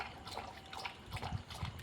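A Labrador laps water from a bowl indoors, a soft, wet, rhythmic splashing that grows into quick licks toward the end. It is close and quiet, with no voices.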